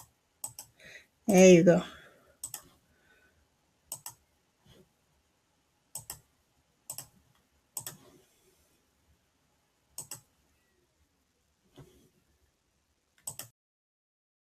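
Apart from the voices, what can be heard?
computer mouse clicking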